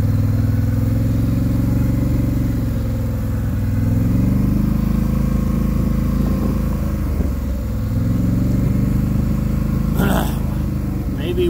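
Polaris Sportsman 850 ATV engine running steadily while riding across a Kentucky farm, a loud continuous mid-pitched drone that rises and falls slightly with throttle, close and alone throughout.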